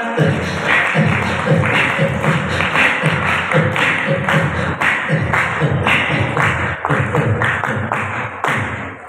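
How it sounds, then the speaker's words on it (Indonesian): Children's audience at an elementary school graduation storytelling event breaks into sustained, loud applause, dense clapping from many hands continuing steadily for several seconds. "Beri tepuk tangan."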